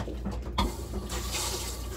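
Fresh water runs from a tap in the head of a 2001 Sea Ray 340 Sundancer boat: a muffled start, then a steady close hiss of flowing water.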